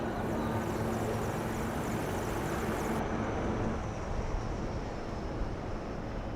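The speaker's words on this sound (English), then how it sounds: "two Apache helicopters and two advanced light helicopters Mark IV aircraft in echelon" Apache and Mark IV advanced light helicopters fly past in formation during India's Republic Day parade, a continuous broad, loud rotor and engine roar that shifts slightly in tone midway, with no voices.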